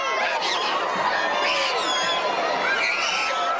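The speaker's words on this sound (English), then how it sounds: "Squealing girls and thunderous applause, clearly overwhelming the Coleman medalist." Girls squeal shrilly over a roaring crowd giving AFL star Buddy Franklin a rock-star reception on Grand Final eve, cheers and applause continuous and loud throughout.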